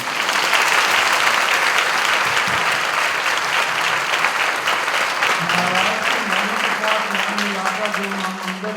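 Audience applause at a meditation and equanimity session, a dense sustained wash of clapping from a crowd, with voices rising over it toward the end.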